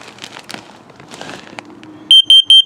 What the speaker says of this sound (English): this is your carbon monoxide LP gas detector. Self-test.